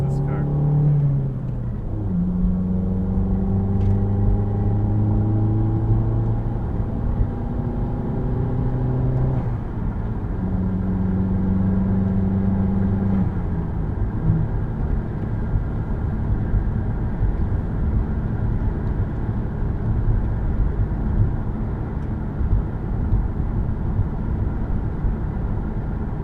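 A 2014 Chevy Cruze Eco Stage 2 with a cold air intake heard from inside the cabin, engine tone climbing through several rising sweeps as it accelerates and shifts, then settling into a steady moderate hum.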